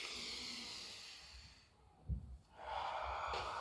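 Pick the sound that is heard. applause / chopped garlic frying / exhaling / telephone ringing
exhaling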